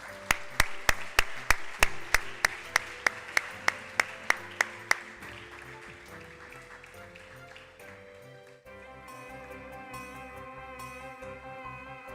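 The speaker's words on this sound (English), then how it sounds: "Please give a big round of applause" Sharp rhythmic claps ring out at a valedictory ceremony for National Science Day, a dozen evenly spaced hits that give way to a sustained tonal, musical texture.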